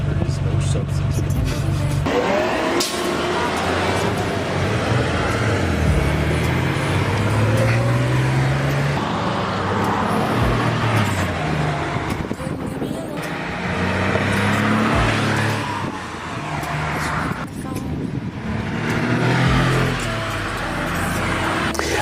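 Classic Porsche 911 being driven, its engine droning and rising and falling in pitch with shifts and acceleration, heard close from inside the car over road rumble, with people talking at times.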